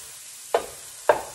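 Minced garlic with onions and mushrooms sizzling in a pan, a soft steady fry broken by two brief stirring scrapes, close and fairly quiet.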